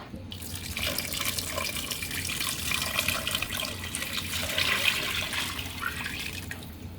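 A liter of water poured into a cooking pot while making homemade Chico's-style tacos, a steady close splashing rush that runs unbroken for several seconds with no voices.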